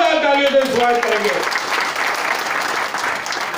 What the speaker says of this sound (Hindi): जोरदार तालियों से स्वागत करेंगे